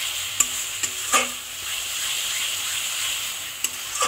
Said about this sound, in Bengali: ভালো করে করে মশলাটাকে কষিয়ে নিতে হবে